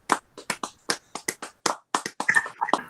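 A small audience at a seminar claps for Rosa, giving sparse, irregular individual claps at close range that grow a little denser toward the end.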